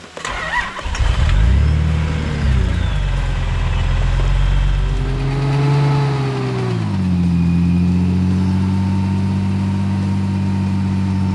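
A car engine cranks and catches, then revs up and settles into a steady rumbling idle, loud and close.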